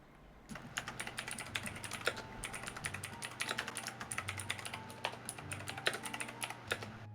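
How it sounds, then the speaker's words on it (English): Loud, rapid typing on a computer keyboard fills the whole stretch with dense, continuous clacking, with a low hum underneath and no voices. "That typing is very loud there, Maddie."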